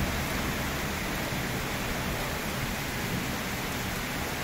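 Dense, steady rainfall in Uttara, Dhaka, roaring evenly throughout, a continuous hiss with no voices or breaks.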